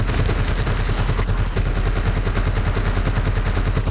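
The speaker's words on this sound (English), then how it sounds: "Dude, this zombie is shooting at me." Rapid automatic gunfire from a zombie enemy in the survival video game The Front, a dense, loud stream of shots rattling steadily throughout with no talk over it.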